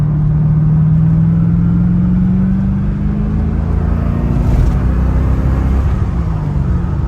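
A 1993 Corvette Callaway Supernatural 450 pulls hard from about 30 to 60, its engine note climbing steadily in a loud, continuous drone heard from inside the car with no talking.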